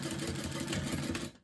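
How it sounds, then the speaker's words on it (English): A sewing machine topstitching along the fold of a fabric sunglasses case made from scraps, a brief, close, steady mechanical whir that stops abruptly at the end. "I'm just stitching, some top stitching on the"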